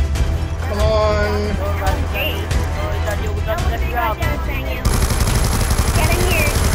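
A light machine gun in a video game rattles in steady automatic bursts under ongoing talk and game chatter, with a brief shift in the mix partway through.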